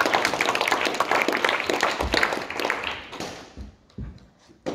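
Audience applause rings out at a gallery artist talk, a dense burst of clapping from a room of people that fades over several seconds into a few scattered claps.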